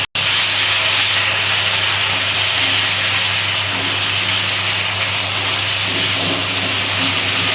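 Water splashed into frying spice paste for a cauliflower, potato and fish curry. After a brief silence it bursts into a loud, continuous steaming sizzle and hiss lasting several seconds, with no talk.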